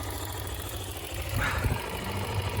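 A 2020 Brozz Recon engine idles with a steady low rumble, valves in need of adjustment; a slight uneven ticking rises partway through, close and continuous with no talk.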